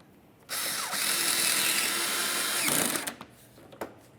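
A power driver whirs steadily for about two and a half seconds, driving a mounting screw into a 2006-2011 Honda Civic front bumper, then stops with a few clicks and knocks.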